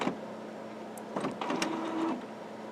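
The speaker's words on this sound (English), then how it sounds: "When that happens, the last sheet will printout." Canon Maxify MB2320 printer starting up to print a sheet: a low mechanical hum and whir with a few faint clicks and brief motor sweeps, close but fairly quiet, with no one talking.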